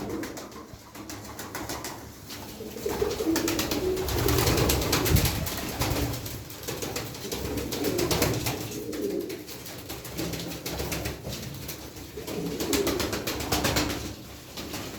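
Pigeons, including cobra-head pigeons, coo steadily in a loft, with overlapping soft, throaty calls that swell and ebb throughout and occasional wing flutters nearby.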